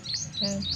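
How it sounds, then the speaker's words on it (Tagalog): Several birds chirp in quick, high tweeting phrases outside a house in a rural province, with a low steady outdoor hum underneath; no one speaks. "Naririnig niya yung huni ng ibon"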